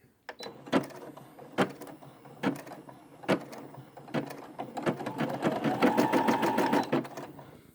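A Brother embroidery machine, one of the SE600/700/1900 models, starts stitching with a few separate clunks, then builds into a steady, fast mechanical chatter of needle strokes that runs close and loud to the end.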